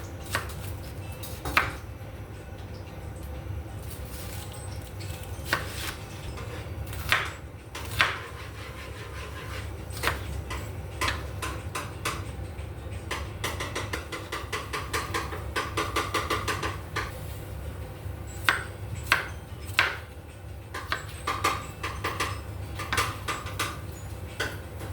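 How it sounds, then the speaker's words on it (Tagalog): Onions chopped with a knife on a cutting board, a run of sharp, close, irregular knocks and taps that continues throughout, with occasional louder strikes. "Cut natin muna yung sibuyas."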